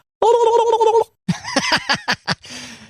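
A person in a car imitates a turkey gobble: a sustained warbling call followed by a quick series of sharp, throaty gobbling bursts.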